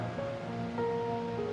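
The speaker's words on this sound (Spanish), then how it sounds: "Está lloviendo." Rain falling outside as a steady, even hiss that fills the whole stretch, with a faint hum and soft tones beneath it.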